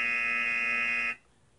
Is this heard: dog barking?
no